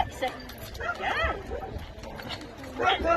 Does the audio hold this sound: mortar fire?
no